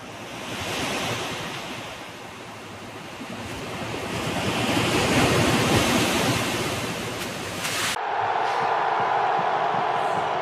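Continuous crashing surf with a windy roar that swells and recedes, followed by a brief quieter stretch near the end; no talking.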